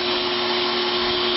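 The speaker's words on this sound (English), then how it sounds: "I'm going to see if I can blast them off with this pressure washer" An electric pressure washer runs steadily while spraying a driveway, a constant loud motor whine with a strong droning tone and broad hissing spray, close and unbroken throughout.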